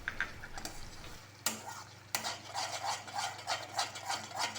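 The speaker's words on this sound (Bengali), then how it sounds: "এবার আমি মরিচের গুঁড়া, হলুদের গুঁড়া আর জিরার গুঁড়া দিয়ে দিব। এগুলি সবগুলি একসাথে কষাতে লাগবে।" Chili, turmeric and cumin powders sautéing in oil for dhaba-style dum aloo, giving a steady close sizzle with rhythmic stirring scrapes and a couple of sharper spoon knocks against the pan.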